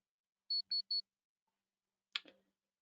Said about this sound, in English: my little start timer has expired